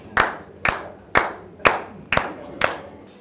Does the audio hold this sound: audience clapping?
yes